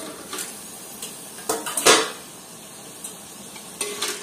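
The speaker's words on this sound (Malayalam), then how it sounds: "നമുക്ക് മൂടി ഒന്ന് തുറന്ന് നോക്കാം." A metal lid lifts off a cooking pot of chicken rice with simmering tomatoes, giving a few sharp clinks and a louder clatter near the middle, then quieter knocks against a faint kitchen background.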